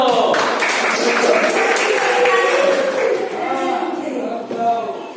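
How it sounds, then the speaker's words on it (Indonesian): Classroom applause for a student, steady clapping that carries on for several seconds and tapers near the end, with some voices mixed in. "Beri aplaus juga buat Aldo"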